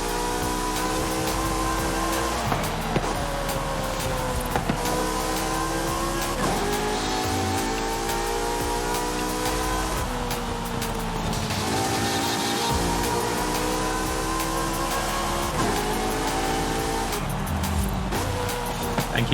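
Nissan Skyline race car engine in Forza Horizon 5, revving loudly and steadily through repeated upshifts, each gear climbing in pitch before dropping, with tire noise underneath and no pauses.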